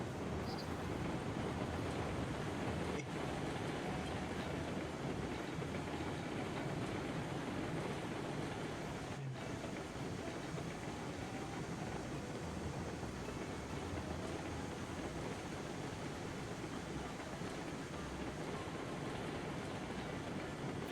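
Steady rumble of a C70 locomotive rolling along track in the Choo-Choo Crew video game, a continuous broadband drone with no talk, holding even for the whole stretch.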